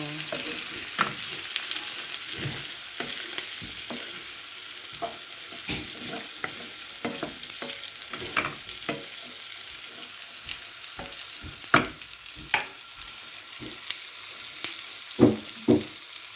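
Ingredients for Nigerian fried rice sizzle in a pan while being stirred, with steady frying hiss and repeated scraping and clinking stir strokes, some sharper clacks, heard close up with no talking.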